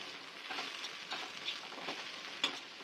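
Okra sautéing in a pan is stirred again after cooking covered, giving a soft continuous sizzle broken by gentle scrapes and a light clink near the end, close and quiet.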